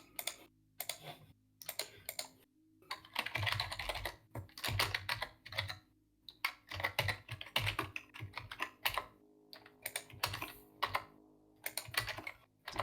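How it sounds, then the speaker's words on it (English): Rapid clattering keystrokes on a computer keyboard come in quick bursts separated by brief pauses, close and clear, during a tabletop role-playing game session. "Do you like typing it out versus just clicking on the dice on the side?"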